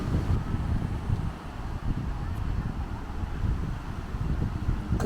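Steady wind buffeting the microphone with a low rumble throughout at Disney's Lookout Cay beach, with rough seas and waves in the background.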